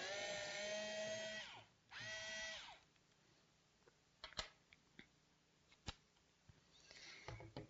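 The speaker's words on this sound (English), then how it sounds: "Now I will unscrew the screw" A cordless screwdriver backs a screw out of a piece of wood: two whining drill bursts up close, then quieter clicks and taps as the tool is handled.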